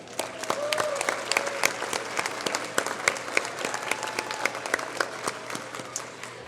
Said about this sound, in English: round of applause for you